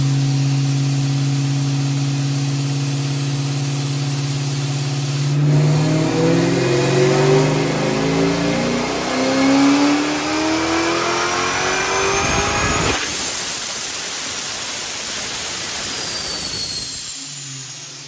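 A powerful 1999 Ford Mustang Cobra engine revs up hard on a dyno and holds at high RPM, its pitch climbing steadily before a sharp roar and a gradual wind-down.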